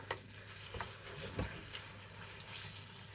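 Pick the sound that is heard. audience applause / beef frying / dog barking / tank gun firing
beef frying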